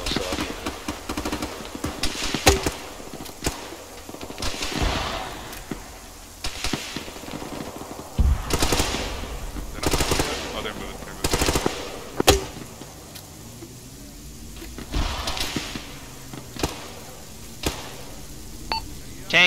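Machine gun fire in a combat video game, with bursts and scattered shots of varying loudness, some near and some distant, among other battle noise.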